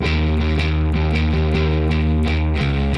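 A heavily distorted bass guitar riff played alone, loud and steady, chugging through repeated notes with a brief pause and change near the end.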